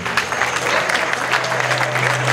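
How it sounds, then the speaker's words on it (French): Guests applauding at a Cameroon national day reception held at the embassy residence in Dakar, steady crowd clapping at close range with a faint low hum beneath. "On l'accompagne avec des applaudissements bien sûr."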